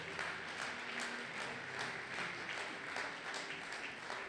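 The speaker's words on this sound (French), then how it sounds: "Est-ce que tu peux acclamer très fort?" A church congregation at a Sunday praise service applauds in a steady, dense wash of clapping that holds evenly throughout, moderately distant and without distinct cheers.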